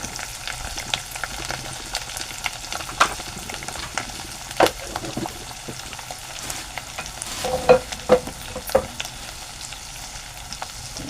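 Spices and turmeric sizzling in a pan while a spoon stirs, close and fairly quiet, with a soft steady fry under irregular scraping and clinking strokes.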